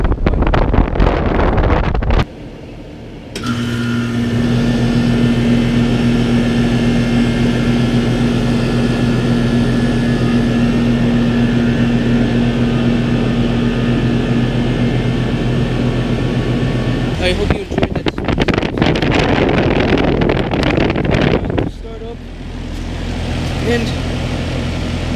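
A train's air conditioning unit starts up with a loud, steady roaring hum and wind-like rush that continues for a long stretch, broken by brief noisy bursts near the end.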